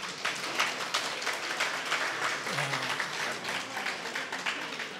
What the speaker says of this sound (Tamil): இப்படி கைதட்டும் போது என்ன கேட்குது இல்லை சார்?